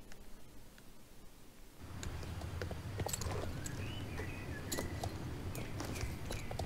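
Horse hooves clip-clop steadily in the online horse-riding game Star Stable Online, a soft rhythmic walking gait with faint rustling and bird chirps in the background, no talking.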